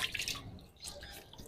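Water splashing and dripping as a face is washed during wudu at an Islamic centre, with soft irregular splashes and drips close by and no talking.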